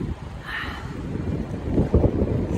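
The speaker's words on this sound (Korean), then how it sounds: "들리시죠? 바람소리" Strong, freezing winter wind gusts roar into the microphone outdoors as someone walks through bitter cold, a steady low buffeting rumble that swells louder toward the end, with no talking.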